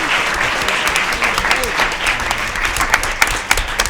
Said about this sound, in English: If we could please give another round of applause for the moderator and debater.